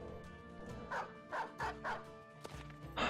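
Dogs in the video game Battle Brothers give a run of sharp barks and yips, several quick calls spaced across a few seconds, fairly close and clear over a quiet game background.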